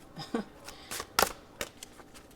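Cards riffle and snap in quick irregular bursts, several sharp flicks close by, with faint talking underneath.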